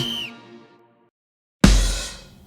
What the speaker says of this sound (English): we'll start off with a whistle together with an orchestral hit and a drum hit.